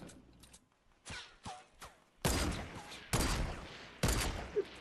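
Gunfire in Fortnite: several loud, distinct shots ring out with sharp attacks, some in quick pairs, spaced across the stretch after a few quieter thumps and pauses.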